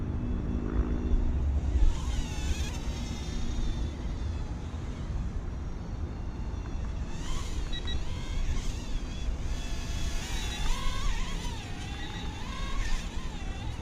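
A VIK VK330 4-axis mini foldable quadcopter drone flies outdoors, giving a steady broadband rotor whir that wavers in pitch through its manoeuvres, with no speech over the constant background.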